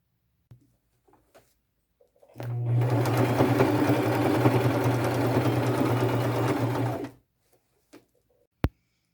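A sewing machine runs steadily for about five seconds, stitching a seam around a fringed lace purse, loud and close with no talking over it.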